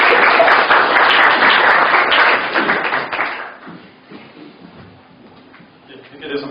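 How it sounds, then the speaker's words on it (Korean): Church congregation applauding as a pastor is welcomed to preach: a dense, loud wash of clapping for about three seconds that quickly fades away, followed by someone speaking quietly in the hall. "우리가 또 박수로 한번 청해서 말씀 듣겠습니다."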